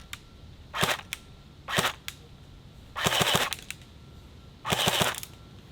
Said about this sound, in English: The gun is louder than the pellets hitting the steel.